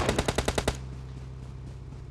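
Rapid automatic gunfire in the mobile battle-royale game PUBG Mobile: a close burst of about seven evenly spaced shots, followed by a fading low rumble and faint game ambience, with no talking.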